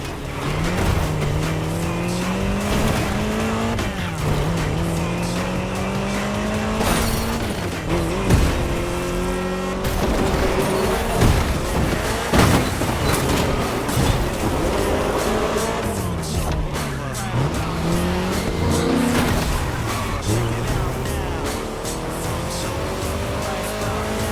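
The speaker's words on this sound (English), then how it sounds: "So for this first scene, we got you an Austin Mini Cooper S." Austin Mini Cooper S being driven in The Crew Motorfest, its engine note rising and falling through gear changes with squealing tyres and skids, loud and steady throughout, with music or other game sounds beneath.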